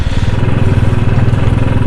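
A Bullet motorcycle engine runs close and loud with a steady, rapid low thumping beat, no talk over it.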